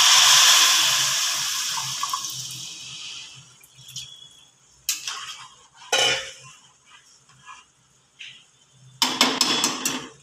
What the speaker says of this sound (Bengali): এবার যে কাপ দিয়ে আমি চাল মেপেছি 4 কাপ, তার ডবল জল এখানে আমি গরম করে রেডি করে নিচ্ছি। এই জলটা এবার দিয়ে দিচ্ছি।